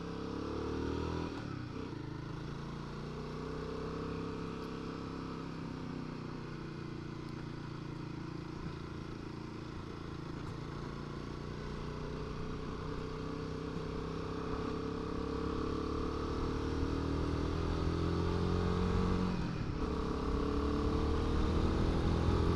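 Royal Enfield 450 Guerrilla motorcycle riding local lanes in first gear, its engine droning steadily and close with rising and falling revs and a slight swell toward the end, no voices.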